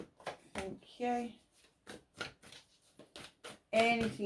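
Tarot cards being shuffled by hand in quick riffling bursts, close by and fairly quiet, broken by short pauses, with a voice talking over parts of it.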